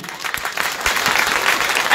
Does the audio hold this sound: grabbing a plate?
no